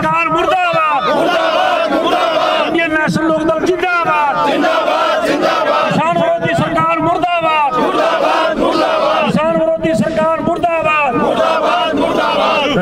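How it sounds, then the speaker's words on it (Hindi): Crowd of protesters in a street demonstration supporting farmers, chanting slogans against the Haryana government in loud, rhythmic unison, a leader's voice calling and many voices answering, sustained and close. "तो मैं एक बार नारा लगाऊंगा, हरियाणा सरकार मुर्दाबाद, हरियाणा सरकार मुर्दाबाद"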